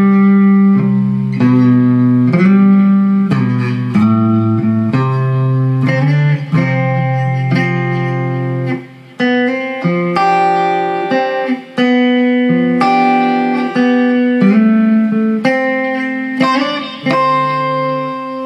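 A guitar part of notes with finger slides, played loud and close as a steady melodic line of plucked notes gliding between pitches for nearly twenty seconds, with no talking.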